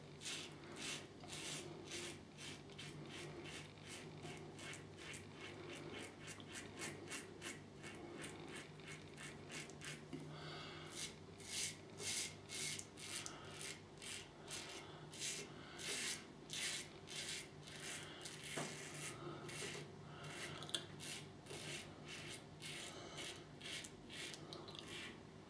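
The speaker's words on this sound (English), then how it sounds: "second pass, I'm just leaving this razor as it is, same for the first pass, and he will go across the growth of the hair" A Smart Helix Apollo razor shaving across the grain on a second pass, a close, continuous rapid scratching rasp of blade over stubble in quick repeated strokes, with no talking.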